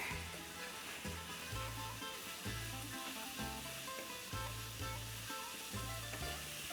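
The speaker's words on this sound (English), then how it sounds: "Today we're using golden raisins. We're gonna give that a good stir." Golden raisins stirred in a hot pan with fresh mint while making Greek grape leaves, a steady loud sizzle with regular rhythmic scraping strokes of the spoon across the pan.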